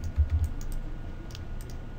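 A few quick computer keyboard key presses, soft close clicks at the start, then faint quiet room tone.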